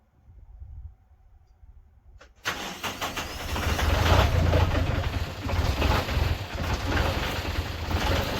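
A 20-year-old tractor engine fitted with a three-point snowblower and frame-mounted snowplow cranks over cold and catches, then settles into a loud, rough, steady run after a quiet stretch.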